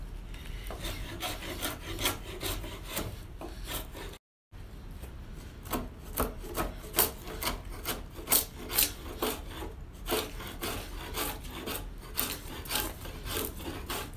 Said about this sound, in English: for finer work, it can be further refined with a draw knife or a single beveled broad axe